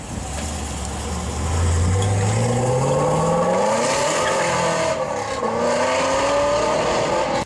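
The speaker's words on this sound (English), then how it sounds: "This Charger produced the perfect growling, popping, crackling exhaust note that became Bumblebee's signature sound" A V8 Charger muscle car engine revs up, rising in pitch through a loud, growling, popping, crackling exhaust note that holds steady and close, with no voices.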